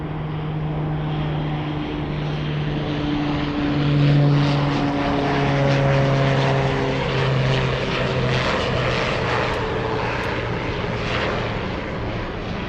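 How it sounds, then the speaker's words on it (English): A Beechcraft 1900 propeller airplane arrives, its steady droning turboprop hum with a low propeller tone swelling slightly as it passes, loud and continuous with no talking. "let's go for the next arrival. Yes, I think it's a Beach 1900."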